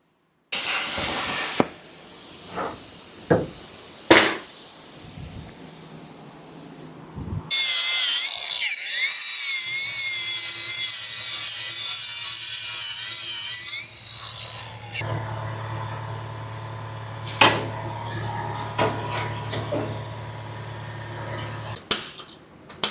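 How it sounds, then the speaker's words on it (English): Art Captain Cut 55 Pro Lux plasma cutter slicing sheet metal in a shop, a steady loud hissing roar running several seconds, followed by a lower sustained hum, with scattered clanks and taps before and after. "I'm gonna use the Art Captain Cut 55 Pro Lux to cut this stuff out."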